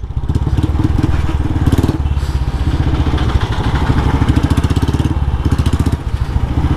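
A superbike's engine drones steadily and loudly up close while racing a Domino's delivery rider on a road, a continuous buzzing mechanical rumble with slight rises in revs throughout.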